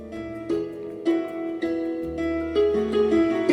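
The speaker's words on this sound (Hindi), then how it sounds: "तो यहाँ पे टच करने से ये आरती शुरू हो गई।" A talking Sampoorna Hanuman book plays a devotional aarti song after being touched: a clear, steady electronic melody of tonal notes that shift every half second or so, alone and moderately loud.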